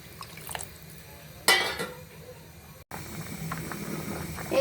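Water goes into a pan of frying chicken curry with potatoes, a sudden loud splash and bubbling hiss that surges, then settles into softer sizzling and clinking.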